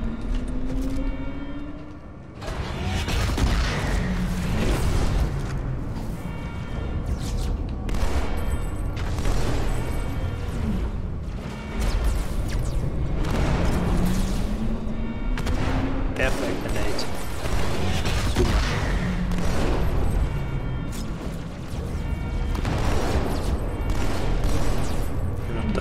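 Rapid gunfire and bursts while shooting enemies in Halo 2, repeated shots and explosions crackling over game music and effects, with players talking over the action throughout.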